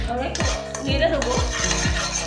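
A utensil stirs black cumin and asafoetida in a pan for a Bengali sesame okra curry, four or five evenly spaced scraping clinks against the metal over a soft background sizzle.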